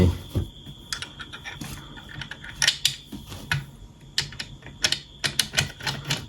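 A bolt is tightened by hand while assembling an S6 slingshot, giving close, quick clicking and ratcheting ticks in uneven bursts, with light metallic handling between turns.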